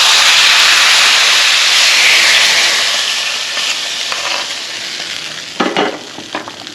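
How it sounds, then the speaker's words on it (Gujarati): A hot tempering of asafoetida and red chili powder is poured into a pot of green pigeon pea dhokli. It lets out a loud, close sizzle that fades steadily, then a few clinks and stirring sounds follow. "હવે એ વઘાર આપણે આમાં રેડી દેવાનો છે."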